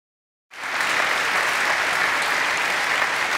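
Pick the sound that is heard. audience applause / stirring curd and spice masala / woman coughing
audience applause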